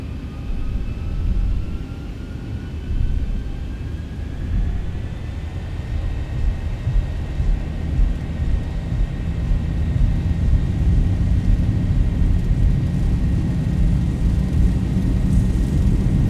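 Simulated airliner jet engines of a Zibo 737-800 in X-Plane 11 spool up to takeoff power, giving a steady, broad roar with a rising whine that builds over the takeoff roll. No one speaks.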